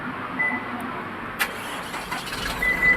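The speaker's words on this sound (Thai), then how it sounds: "เราสามารถสั่งสตาร์ทรถ ด้วยรีโมทคอนโทรลได้เลย" A 2021 Isuzu MU-X 1.9 Ultimate 2WD is started by remote: a brief click-like start transient, then a faint, low engine idle rising slightly toward the end, heard at a distance.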